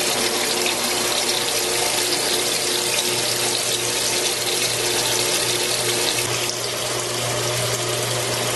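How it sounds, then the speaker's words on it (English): A deep fryer's filter pump sends filtered oil back into the fryer with a loud, steady rushing flow and a low motor hum that continues unbroken, with no voices. "it will replace all the oil that was in your tank back into the fryer"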